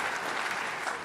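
Parliamentary audience applauding at a junior parliament opening, a dense, steady burst of many hands clapping at close range.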